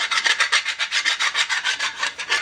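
Hand file rasping across a metal mill attachment part to knock off burrs, a close, dry scraping repeated in quick even strokes, about eight per second, with no voices.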